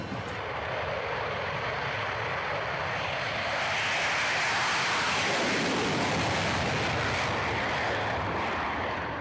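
Military jet aircraft in flight near Mont-de-Marsan air base, a steady, loud, broadband roar of engine and rushing air that fills the whole stretch without voices.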